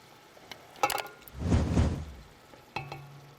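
Tomatoes go into a pan of sautéed onions and garlic with a short swelling whoosh of sizzle, framed by a few clanks and scrapes of utensils.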